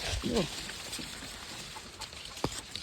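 Chickens on a farm let out a few short, quiet clucks near the start, followed by soft ambient farmyard noise and a sharp knock later.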